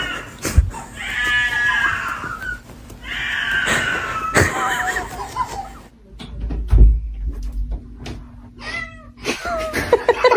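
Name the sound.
cat meowing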